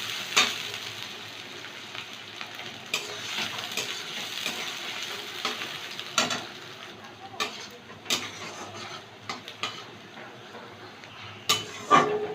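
Chopped onions and green chillies frying in oil, a moderate sizzle broken by irregular stirring scrapes and light clinks of a spoon on the pan, nearby and free of talk.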